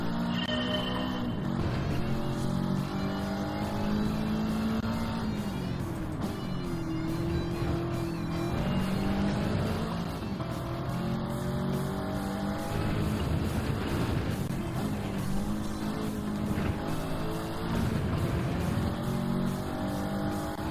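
Ford GT race car in Gran Turismo 7, its engine droning and revving continuously at high pitch with gear shifts and pitch sweeps, loud and steady throughout a long racing stretch.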